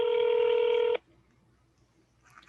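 A single steady telephone DTMF dialing tone, clear and loud for about a second, then cutting off to near silence.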